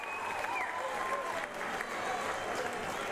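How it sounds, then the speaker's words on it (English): A crowd at an Australian football match between NTFL and Glenelg roars and applauds after a long-range goal, a steady wash of clapping and cheering at moderate distance, with a commentator's voice faintly over it. "you heard the crowd when he kicked it"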